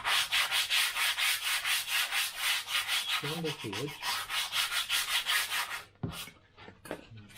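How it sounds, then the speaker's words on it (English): Sandpaper is rubbed back and forth along the edge of a wooden tail piece for a BD-5 model aircraft, giving rapid rhythmic scratchy strokes, close and steady, before stopping with a few knocks at the end. "So what I'll do, I'll sand off the edge,"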